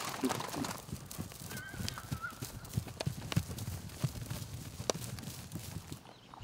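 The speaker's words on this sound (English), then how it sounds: "the cowboys at the Circle Bar Ranch are driving in the horses." Hooves clip-clop as cowboys drive a herd of horses in on a Montana ranch morning, a busy scatter of hoofbeats at moderate distance with occasional honking calls from geese or fowl in the background.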